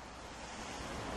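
Strong outdoor wind roars steadily and loudly, a broadband rushing buffet against the microphone with no voices, resembling surf.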